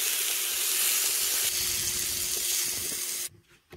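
Pineapple with butter, sugar and cinnamon sizzling loudly on a hot crepe maker, a steady close frying hiss that cuts off abruptly near the end.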